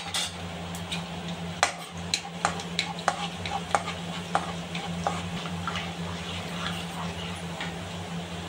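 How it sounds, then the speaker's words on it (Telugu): Cashews roasting in oil in a pan for karivepaku rice, a soft continuous sizzle with a series of sharp spoon clicks and scrapes against the pan as they are stirred. "ఇందులో కాజుని వేసి దీన్ని కూడా దూరగా వేపుకొని తీసుకోవాలి ఫ్రెండ్స్"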